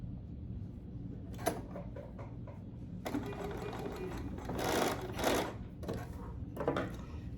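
A sewing machine bastes straps in place, running in short bursts of rapid stitching separated by pauses, with a few clicks and fabric handling sounds in between, close and moderately quiet.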